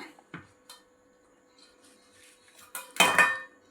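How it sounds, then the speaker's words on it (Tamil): A knife cuts paneer into finger strips on a board, with a few sparse, sharp taps spaced apart and then a louder cluster of clattering strikes at the end. "இதை மறுபடியும் குறுக்கால் ஒரு கட் பண்ணி இந்த மாதிரி கட் பண்ணி வச்சுக்கலாங்க"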